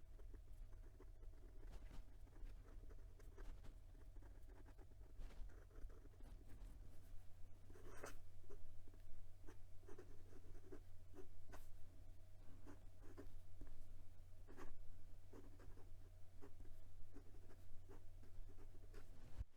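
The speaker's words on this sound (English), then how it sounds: "for some reverse writing, it actually does it, and the feed is keeping up, but it is very scratchy and it's starting to dig into the page" A Hongdian 1841 fountain pen with a broad, wet Chinese fine nib scratches across paper in short, quick strokes, faint and close over a low steady hum, with no voices.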